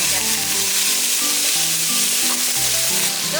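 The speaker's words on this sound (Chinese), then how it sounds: "再把肉末放进去炒香" Minced pork hisses and crackles as it is stir-fried in a wok with a little oil, a loud, close, continuous sizzle broken by rhythmic scraping strokes of a spatula, with no voices.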